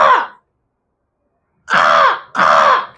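A human voice imitates an agitated crow, giving three loud, harsh caws up close: one short call, a pause, then two drawn-out caws in quick succession.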